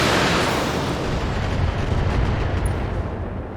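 Mech weapons firing in the BattleTech video game, a dense, loud, continuous barrage of booming blasts and rumbling explosions filling the whole stretch.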